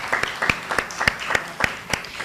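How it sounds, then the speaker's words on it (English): Scattered applause from a small town hall audience, a handful of claps with distinct individual hits, moderately close and fairly quiet, with a faint voice underneath. "Let's give them a round of applause."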